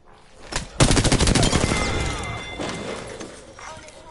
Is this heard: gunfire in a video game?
yes